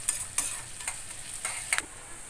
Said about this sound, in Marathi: हे जिरं आणि मोहरी टाकली आणि याच्या परत हलवायचं